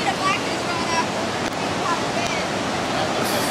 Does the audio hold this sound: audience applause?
no